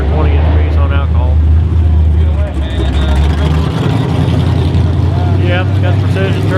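A 620-cubic-inch twin-turbo street truck engine running on alcohol, with a Brodex 5-inch bore block and 98 mm precision turbos, rumbles loud and deep throughout, with voices talking over it.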